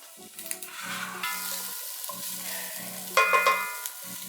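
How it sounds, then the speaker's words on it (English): Shallots tipped into hot melted butter in a pan for risotto alla Milanese: a close, bright sizzle and crackle runs throughout, with stirring scrapes and a louder spit of frying partway through. "We're gonna add our shallots right into that hot butter."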